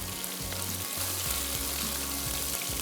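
Capsicum (shimla mirch) sizzles and fries in a pan for chicken biryani, a steady close crackle with a low burner rumble beneath.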